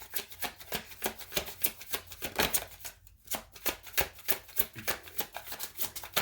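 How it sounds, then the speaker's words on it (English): Tarot cards being shuffled by hand, a steady run of crisp riffling flutters repeating at a quick, even rhythm with a brief pause midway, close and moderately loud with no talking. "We shuffle on camera, Aries, so nothing is premeditated on my channel."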